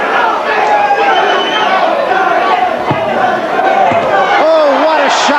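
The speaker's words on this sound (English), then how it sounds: "the crowd, again, showing its both appreciation and support for Jose Ribalta" Boxing arena crowd roaring and cheering loudly and continuously for heavyweight Jose Ribalta, with shouts and whistles rising near the end.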